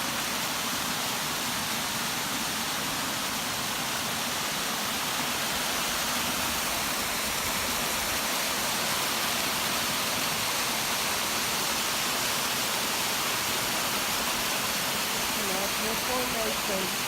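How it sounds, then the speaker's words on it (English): A natural waterfall in Chalk Ridge Falls Park, Belton, Texas, pours steadily with a broad, continuous rushing hiss from start to finish, close and fairly loud, with no voices over it. "There's a waterfall."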